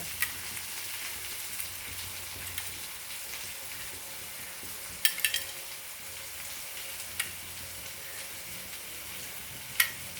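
Eggs frying in a pan of fried onions give a quiet, continuous sizzle, broken by a few light clicks and scrapes of stirring.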